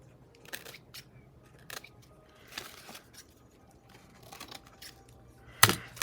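Scissors trim a paper tag while an embossed envelope tag is being crafted: several soft, sparse snips spread out over a quiet background, with one louder, sharper cut near the end.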